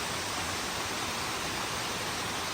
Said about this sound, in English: And I am at upper part of waterfall.